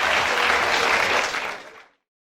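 A burst of crowd applause in an auditorium, loud and dense, clapping steadily before tapering off and fading to silence after about two seconds.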